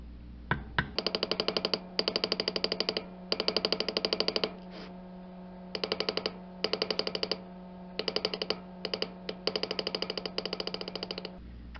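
Leather coaster being beveled with a tooling mallet, a rapid run of sharp taps in bursts of many strikes with short pauses between, close and fairly loud over a steady low hum.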